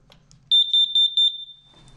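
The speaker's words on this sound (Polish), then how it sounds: "I włącza się alarm głośny." A carbon monoxide detector alarm chirps in a rapid series of six piercing high beeps, close and loud, then falls quiet.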